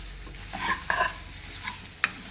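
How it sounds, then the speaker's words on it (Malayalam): A spoon scrapes and stirs through food in a pan over a soft sizzle while roasting for Kerala-style sambar, with a few clinks against the metal. "ഇളക്കി കൊടുക്കാം ഇളക്കി വരട്ടി എടുക്കണം"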